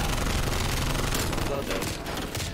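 Dense automatic gunfire from the Garrison HP video game clatters in rapid bursts, loud and close, with a voice talking over it.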